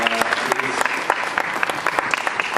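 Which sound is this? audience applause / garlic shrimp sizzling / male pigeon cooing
audience applause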